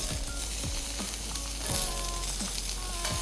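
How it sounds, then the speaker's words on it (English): Green onions sizzle loudly in a hot wok while being stir-fried, with scraping and tossing sounds, close up and continuous. "first we're gonna throw our 1-inch segmented green onions in the wok"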